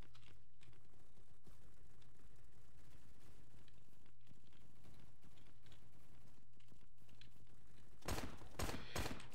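Gunfire in the Roblox shooter Bad Business, a short loud burst of rapid shots near the end of a long quiet stretch with a steady low hum and faint clicking beforehand.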